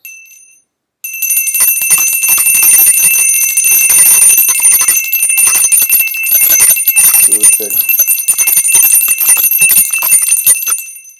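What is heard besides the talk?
Timber and Crane Suzu brass bicycle bell ringing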